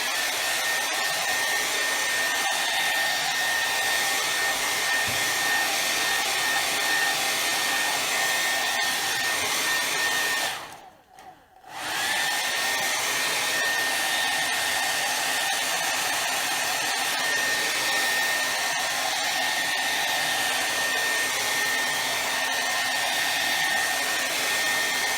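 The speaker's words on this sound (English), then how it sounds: "So I'm going to do my dryer again." A hair dryer drying paint on a chalk sign blows steadily with a whooshing, high whine, pausing briefly midway before starting up again and running on.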